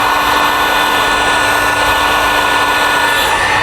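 A heat gun blows hot air onto vinyl wrap on a Jeep JKU front door skin, a loud, close, steady whirring hum with a constant airy hiss and no breaks.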